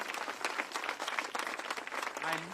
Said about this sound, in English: Give your mayor a round of applause.